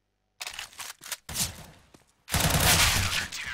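Close, loud gunfire in a CS:GO match: a couple of short bursts with gaps, then a sustained stretch of rapid automatic fire, heard alone.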